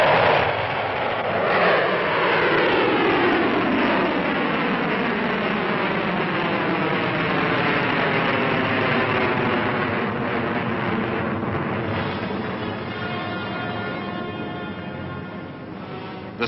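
A Pershing missile launch and flight, a loud sustained roaring rush that slowly recedes, with shifting tonal sweeps as it climbs away.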